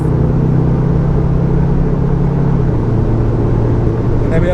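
A Cupra Formentor 310 cruising at speed, its engine a steady loud drone with road and wind rumble and a slight pitch drop partway through as it shifts down a gear, no talk.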